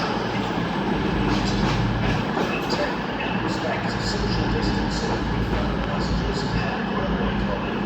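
Two trains pass each other on the rail line, one a two-coach unit, giving a steady, loud rumble of wheels and carriages that runs the whole time with little change, heard fairly close.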